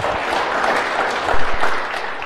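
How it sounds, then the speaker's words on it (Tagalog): Congregation applause during a church service, a dense, steady wash of clapping that fills the space, with no voices over it. "Palakpak ni Lord."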